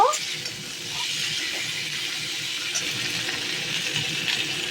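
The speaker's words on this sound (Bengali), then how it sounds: "এবার কড়াইশুঁটিটা দিয়ে আরও 2-3 মিনিট ভাজা ভাজা করব" Potatoes and green peas frying in a pan for a spicy curry, heard as a steady, close hiss and sizzle that carries on evenly throughout after a brief clatter at the start.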